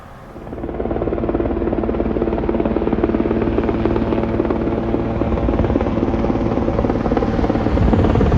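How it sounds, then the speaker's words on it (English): A VH-92 helicopter on a test flight drones loud and steady throughout, a continuous rotor thrumming roar with no voices. "There's the VH-92 on a test flight right now, up in Northwest"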